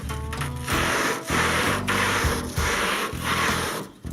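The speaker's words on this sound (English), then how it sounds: "Had to find some sandpaper." Sandpaper rubs over the body of a Ford Model A in steady back-and-forth strokes, a rhythmic, close, scratchy rasp with brief pauses between passes.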